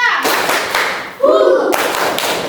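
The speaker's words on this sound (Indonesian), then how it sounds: "Tepuk 1, 2, 3." Children clap in unison during a classroom clapping game, a burst of quick hand claps mixed with young voices chanting, loud and close, with a brief pause before a second round of clapping.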